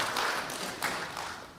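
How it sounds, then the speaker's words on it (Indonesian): An audience at a parliamentary hearing with the national police chief claps in a dense, even burst of applause, close and fairly loud, fading slightly over a second and a half. "Tepuk tangan dong"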